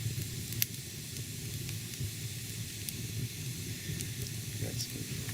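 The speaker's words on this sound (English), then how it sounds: "Got some water boiling, or getting ready to boil, and make some coffee" Water heating toward a boil in a pot over a small morning campfire at camp, a soft steady hiss and sizzle with faint crackles and occasional small pops, fairly quiet and continuous.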